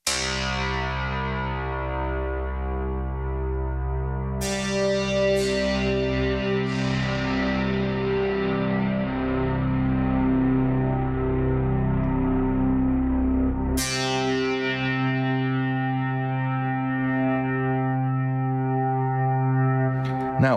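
A RingZ module preset on the VirSyn Tera Pro iOS synthesizer plays sustained, harmonically rich tones with a steady low drone, struck anew around five and fourteen seconds and ringing down into long decays, loud and close with no talk.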